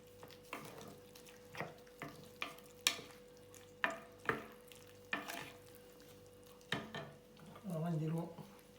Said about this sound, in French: كما كنشوفو جالس كيتقلى